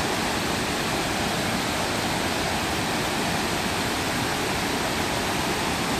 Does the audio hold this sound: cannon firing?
no